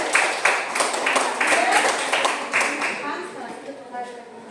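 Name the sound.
clapping for a student group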